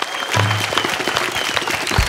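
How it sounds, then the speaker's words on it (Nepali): A comedy club audience claps for the Nepali cricket team in a short, dense burst of applause, heard close and loud without talk. "नेपाली क्रिकेट टिमलाई ताली बजाउँदै"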